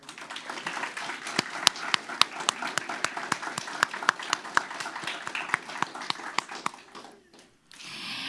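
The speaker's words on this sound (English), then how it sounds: "Let's give a big round of applause for Officer K-9 Tina." A small crowd claps at a police K9 retirement ceremony for a dog named Tina; sparse, distinct individual claps ring out in a loose rhythm, fairly close, before trailing off near the end.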